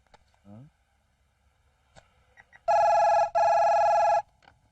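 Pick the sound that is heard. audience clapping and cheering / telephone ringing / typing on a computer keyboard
telephone ringing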